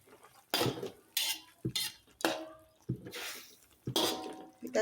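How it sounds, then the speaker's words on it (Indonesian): Seasoning stirred in a cooking pan with a utensil for Indonesian quail egg oyster sauce dish: a series of sharp scraping, clinking strokes against the pan at irregular intervals, close and fairly loud, with light bubbling between. "Kita aduk kembali."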